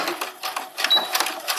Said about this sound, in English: I'm going to sew on my sewing machine with a regular straight stitch.